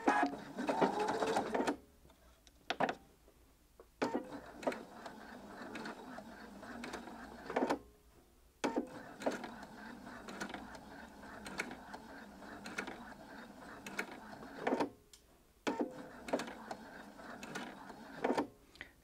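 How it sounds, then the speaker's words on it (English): A sewing machine stitches in the ditch along the seam where bias binding meets the main garment fabric, running in several steady buzzing bursts separated by short pauses, close and fairly loud. "So I'm just sewing where the seam line is, where the two fabrics join, the binding and the main garment fabric."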